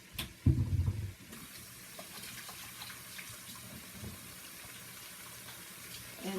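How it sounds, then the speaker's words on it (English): Hands being washed under a running tap, with a steady splashing stream of water, some rubbing and a brief louder splash near the start, close and without talk. "I'm going to give my hands a wash"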